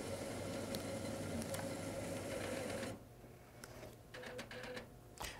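Sawgrass Virtuoso SG800 sublimation printer powering on, a steady mechanical hum with clicks that stops abruptly partway through, followed by quieter whirring and a few short ticks and bursts of carriage movement.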